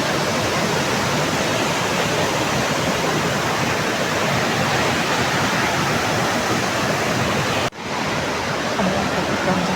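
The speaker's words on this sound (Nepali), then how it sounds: "पानीको आवाज" A mountain stream in a remote Nepali village rushes steadily, a dense, loud, continuous roar of flowing water with no voices over it and only a momentary dip near the end.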